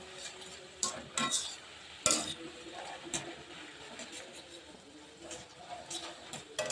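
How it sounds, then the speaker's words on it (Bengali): Nimki frying in hot oil over a high flame is stirred, with a soft sizzle underneath and intermittent scraping and clattering utensil strokes, some close together and some spaced apart. "নিমকিগুলো এবার ভালো করে নাড়তে থাক নাহলে জড়িয়ে যাবে"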